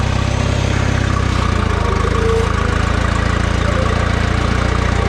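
A tractor engine idles steadily while warming up, a loud, close, low rumbling chug that holds an even pulse throughout, with no talking.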